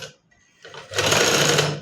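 A sewing machine stitches a frock collar, starting up after a near-silent pause and then running loud and steady in a continuous close whir for the rest of the moment.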